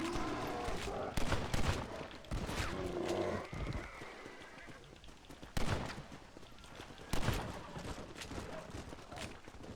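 Gunshots fired at a bear in the Western video game Red Dead Redemption, several sharp bursts spread over several seconds, mixed with horse hooves, game sounds and shouting voices.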